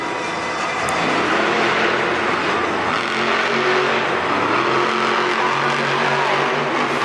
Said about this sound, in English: His truck is just going all over the place.